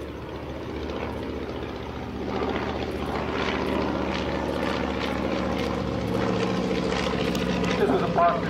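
A vintage propeller airplane makes a photo flyby at an old-time aerodrome, its engine droning steadily and growing louder over a crowd's background chatter, with voices talking throughout.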